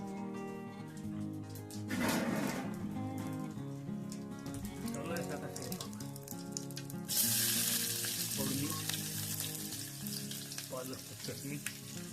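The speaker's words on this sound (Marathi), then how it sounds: "तेल कांदा आणि जिरं याच्यामध्ये टाकलं. हे असं परतून घेतलं." Onion and cumin sizzle steadily in hot oil while being sautéed for spinach chutney in a village kitchen, with a continuous close frying hiss, brief stirring scrapes, and background music playing throughout.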